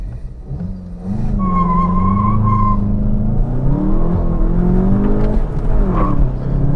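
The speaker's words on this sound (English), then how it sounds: "I'm gonna test the acceleration with the GLI" A 2022 Volkswagen Jetta GLI, front-wheel drive with traction control still on, pulls hard from a standstill, its engine note rising steadily and loud close by, with a brief whine early on and no talking.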